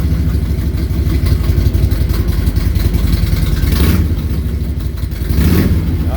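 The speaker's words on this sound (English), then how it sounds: "let's thumb the starter here, see what this motor sounds like" A 2004 Harley-Davidson Road King with chromed-out parts idles loudly and close by, its deep, lumpy V-twin rumble steady throughout, with a couple of brief swells of throttle.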